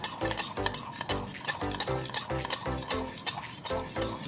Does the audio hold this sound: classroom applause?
no